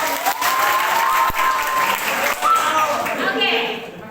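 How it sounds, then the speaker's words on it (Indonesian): Applause from a classroom or seminar audience at a reproductive health education session, loud and steady for about four seconds with crowd noise mixed in, tapering slightly at the end. "tepuk tangan dong buat"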